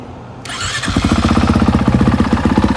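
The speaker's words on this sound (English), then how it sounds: "This bike has the electric start." A 2019 Honda CRF450R motocross bike with an FMF full exhaust cranks briefly with the electric starter, then catches and settles into a loud, rapid single-cylinder idle.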